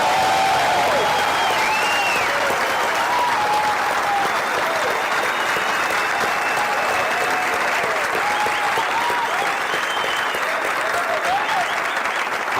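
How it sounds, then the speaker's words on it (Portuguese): Dense, sustained applause from a large audience in a Lisbon auditorium, loud and even throughout, with scattered whistles and shouts rising above the clapping. "Quero dar uma salva de palmas para vocês aí."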